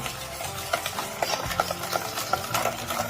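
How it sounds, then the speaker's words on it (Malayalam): Milk being stirred to dissolve sugar for a homemade aval milk drink, with a spoon scraping and clinking rhythmically around the vessel in quick, close strokes. "പഞ്ചസാരയൊക്കെ ഒന്ന് അടിയാൻ വേണ്ടിയിട്ട് നന്നായിട്ട് ഇളക്കി കൊടുക്കാം."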